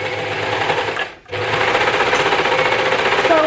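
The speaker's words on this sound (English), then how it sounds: "I prefer to have my presser foot of my overlocker to start down, put the garment underneath and just sew" Overlocker stitching along the clipped edge of a knit cardigan garment, a steady fast mechanical whirr that runs continuously, briefly drops out for a moment, then resumes at full speed, close and loud.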